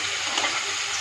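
Prawns rubbed with salt and turmeric fry in a pan with a steady, dense sizzle. The hiss stays even throughout with no talking.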